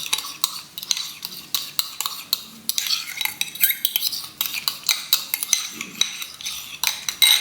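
A spoon stirs yeast and sugar into lukewarm water in a bowl for bread dough, giving steady close scraping and clinking strokes with no talking.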